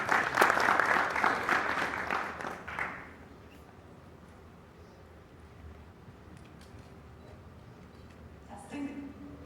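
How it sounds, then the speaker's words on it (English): A crowd claps loudly for about three seconds, then the applause fades into a quiet room murmur with faint scattered sounds. "Please give them a big round of applause as they come onto the stage."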